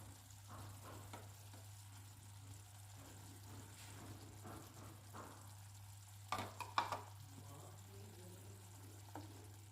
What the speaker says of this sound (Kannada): ಇವಾಗ ಒಂದೊಂದೇ ನಾನು ಮೊಟ್ಟೆಗಳನ್ನ ಹಾಕೋತಾ ಬರ್ತೀನಿ